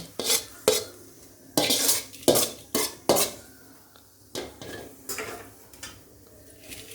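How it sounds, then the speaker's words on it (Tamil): Okra being stirred and sautéed in a kadai, a spatula scraping and clanking against the metal pan in irregular strokes over a faint sizzle, close and distinct. "இதே வடைச்சட்டியில் வெண்டைக்காயை வந்து வதக்கும்"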